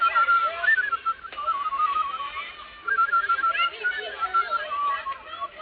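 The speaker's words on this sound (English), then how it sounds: "I hope I can still whistle" A person whistles a wavering, tuneful melody in short phrases, fairly close and moderately loud, with brief pauses between runs.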